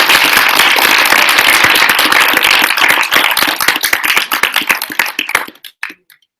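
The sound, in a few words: audience clapping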